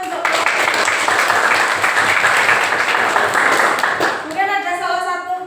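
A classroom of students bursts into loud, dense applause that goes on steadily for several seconds, then fades as a voice begins speaking.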